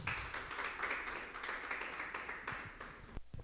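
A church congregation claps together in praise, a steady, fairly full run of hand claps with rhythmic accents that breaks off near the end, heard from a moderate distance.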